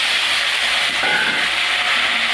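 Potato and plantain pieces frying in hot oil for a Bengali fish curry, a steady broadband sizzle and hiss throughout, close and even, with no talking.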